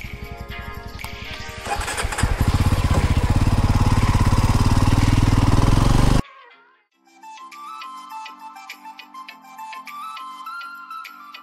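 A motorcycle engine runs loudly and close, rising in a strong revving drone before cutting off abruptly, followed after a brief pause by a quieter, higher-pitched engine hum that keeps running to the end.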